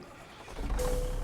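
A heavy Cummins N14 diesel truck engine cranks and catches, a low rumble swelling up after a quiet moment, with a faint steady tone riding on top.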